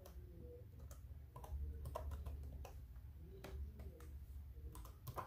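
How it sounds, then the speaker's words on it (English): Keys clicking in short irregular bursts as an admin password is typed on a Dell E1705 laptop keyboard, close and fairly quiet over a low steady hum. "Brady, Let me type in the admin password"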